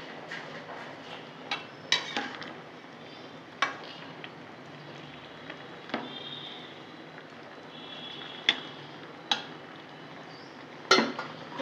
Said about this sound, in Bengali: বন্ধুরা ঢাকা দিয়ে দেবো